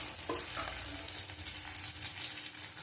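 Prawns fry in a pan for a Bengali prawn fritter recipe, giving a steady, fairly quiet sizzle and crackle with occasional stirring scrapes and no talking.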